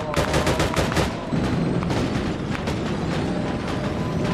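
Heavy gunfire in the video game Arma Reforger crackles continuously, rapid overlapping bursts of automatic shots with booming reports, loud and dense like a close-range firefight.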